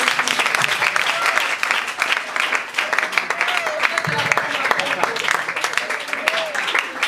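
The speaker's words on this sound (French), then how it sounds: "veuillez applaudir" Audience applause at a foundation ceremony in Kinshasa, a steady crowd clapping that runs throughout with voices mixed in underneath.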